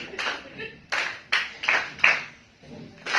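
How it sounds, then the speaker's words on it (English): An audience at an arts performance claps along in a slow, even beat, each loud unison clap ringing out distinctly with a short gap after it, up close, while a voice is faintly heard. "let's keep on clapping"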